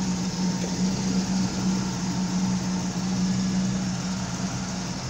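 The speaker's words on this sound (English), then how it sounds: "I think my idle's a little low yet" A 1972 Pontiac Firebird engine idles low, a steady deep hum with a constant drone that holds evenly throughout, nearby and fairly loud.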